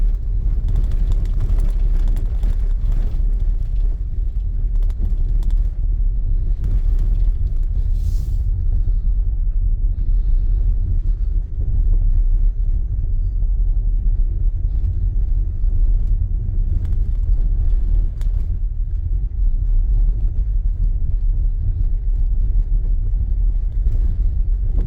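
Tesla Model Y 2024 dual motor long range driving on a snow-packed Colorado road in traffic, a steady low rumble of road and tyre noise inside the cabin, constant and fairly loud throughout with no talking.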